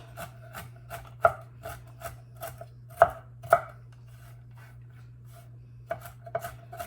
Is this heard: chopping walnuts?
yes